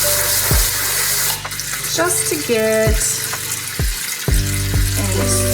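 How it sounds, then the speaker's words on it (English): Cold tap water runs steadily into a metal strainer of drained canned chickpeas, a loud continuous splash with clinks and shifts as the strainer moves, while a person speaks over it. "I'm gonna give it a little rinse with cold water"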